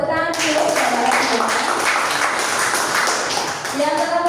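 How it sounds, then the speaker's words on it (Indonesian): A seminar audience in Surakarta claps in a dense, steady wash of applause while a voice talks over it on a microphone. "Mari beri kita tepuk tangan dulu"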